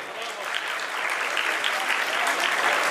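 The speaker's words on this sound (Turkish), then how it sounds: "Alkışlıyoruz İsmail'i" Applause for the groom at a wedding in Wels, Austria, a dense, steady clapping of a large crowd that swells slightly, with voices mixed into it.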